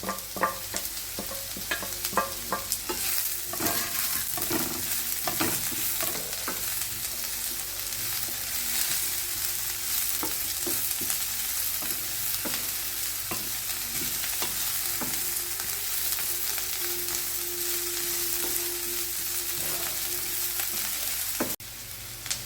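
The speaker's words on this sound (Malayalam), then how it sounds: "ഞാനിപ്പോൾ ഇവിടെ ഒരു വലിയ സവാളയാണ്, അതും കൂടെ ചേർത്ത് കൊടുത്ത് ഒന്ന് വാട്ടിയെടുക്കാം." Bitter gourd and a large onion sauté in a pan with a loud, continuous sizzle and frying crackle, broken by frequent utensil scrapes and stirs that continue steadily throughout without any talking.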